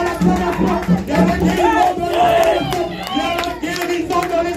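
A church congregation shouts and cheers in acclamation, a loud, dense mass of overlapping voices with rising cries and some clapping, close and continuous.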